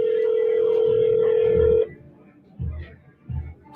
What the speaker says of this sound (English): Can everybody hear Anna right now while it's ringing?